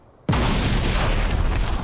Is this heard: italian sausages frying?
no